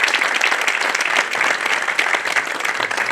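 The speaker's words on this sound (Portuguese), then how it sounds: "Uma salva de palmas." Dense, steady applause from an audience at a Portuguese religious gathering, many hands clapping together at a constant loud level for the whole span, with no voices over it.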